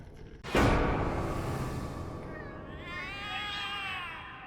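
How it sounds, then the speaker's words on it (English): Cats meow in the video game The Cat Lady: a sudden loud burst opens, followed by a drawn-out, wavering meow that rises and falls near the end over a dark, steady background. "The cats are alarming."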